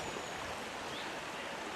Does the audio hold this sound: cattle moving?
no